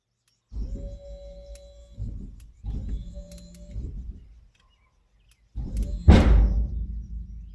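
The hydraulic pump on a dump trailer, worked by a wireless remote, lowers the bed in several separate motor runs of about a second and a half each, whining at close range, followed by a sharp clunk and rattle.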